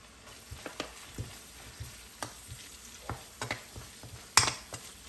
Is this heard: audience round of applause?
no